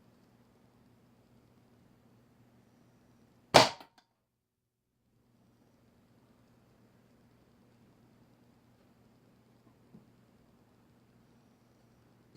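A .25 caliber air rifle pellet, a 28.6 grain metal-tipped round, fires and strikes a tablet as one sharp, loud crack, followed by a faint tick several seconds later over low steady background hum.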